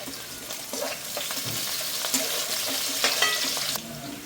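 Curry leaves sizzle and crackle loudly in hot oil in a pan, a steady close frying hiss with scattered sharp pops and a few stirring scrapes, no voices.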